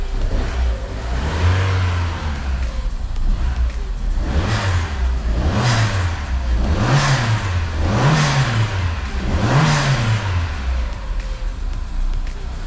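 An engine-swapped Fiat 500, running a bit rich before warming up, revs repeatedly: five rising and falling throttle blips in a steady rhythm over a constant idle, close and loud, with no talking.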